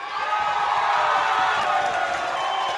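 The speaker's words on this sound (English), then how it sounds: "It sounds like the crowd really wants it, though." Crowd cheering during a comedy podcast episode, a continuous dense wash of voices and whoops holding at an even level throughout without distinct claps standing out.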